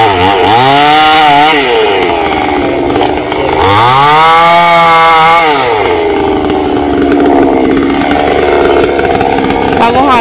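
A chainsaw cuts through a large golden wattle tree, its engine loud and close, rising in two long revving surges before settling into a steadier labouring drone.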